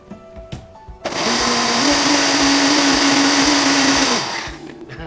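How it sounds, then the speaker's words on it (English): A blender purees onion and broth into a smooth mixture, roaring loud and steady at close range for about three seconds, then winding down, with no talk over it. "Then we're going to add our broth to this. And we're going to puree."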